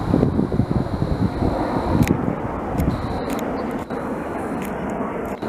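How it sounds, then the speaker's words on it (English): An airplane passes overhead near Montreal, a broad steady roar that stays loud throughout, mixed with wind buffeting on the microphone. "I'm gonna film this plane here."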